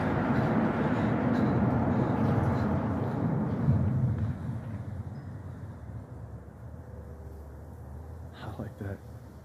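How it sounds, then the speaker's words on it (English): Rumbling low roar of a train passing near a railroad bridge, loud and steady for several seconds before fading to a distant hum; a few brief clanks near the end. "I hear another train out there."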